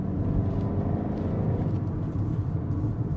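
A 2021 BMW 128ti hot hatch driving in sport mode, its engine a steady close drone with low rumbling tones and no break in the sound.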